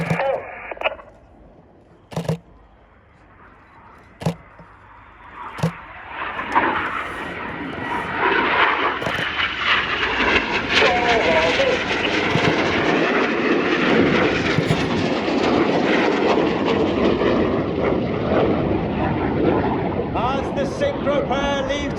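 RAF Red Arrows jets roaring past in a crossing display manoeuvre at an air show, a few sharp clicks at first, then a loud, building engine roar that stays broad and sustained to the end.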